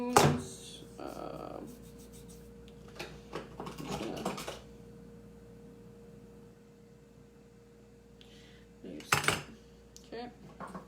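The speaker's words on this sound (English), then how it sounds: "Take out my measuring cups, my measuring spoons." Metal measuring cups and spoons clatter and clink in a kitchen in a few short bursts, a busy cluster at the start and another near the end, with quiet stretches and a steady low hum between.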